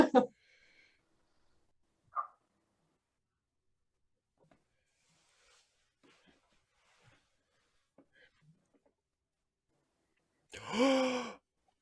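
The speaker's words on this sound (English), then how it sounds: "I love how she gasps immediately." A cartoon girl from the Hilda animated series lets out a short sharp gasp at the very start, and a second breathy gasp comes near the end after a long quiet stretch.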